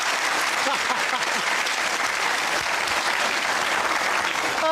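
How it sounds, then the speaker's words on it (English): A television game show studio audience claps vigorously and continuously, a full, even roar of applause with a few voices faintly underneath. "We're all clapping, but we don't know why."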